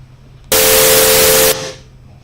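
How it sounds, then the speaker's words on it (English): Synthesized test tones from a DSP lab, a steady pitched tone buried in loud broadband hiss that switches on abruptly, holds for about a second, then cuts off. "you can still hear the tones there"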